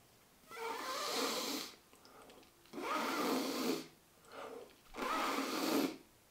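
An oboist practising circular breathing draws air in through the nose in three close, quiet, breathy sniffs, separated by short pauses of silence.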